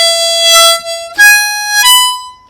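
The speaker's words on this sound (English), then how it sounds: "And then we're going to move up to 7 draw and 8 draw." A harmonica in an old-time lesson plays three clean, sustained single draw notes stepping upward on holes 7 and 8, loud and close with no voice.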